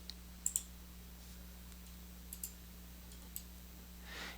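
A computer mouse clicks while copying and pasting in LibreOffice Impress: a quick double click, then a couple more single clicks spaced apart, crisp and faint in a quiet room with a low electrical hum.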